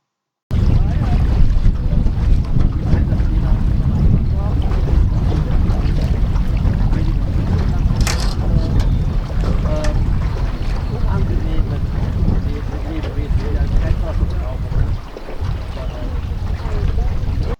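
A boat moves across open water on a sightseeing trip, giving a loud, continuous rumble and wash, with strong wind buffeting the microphone throughout and a brief dip near the end.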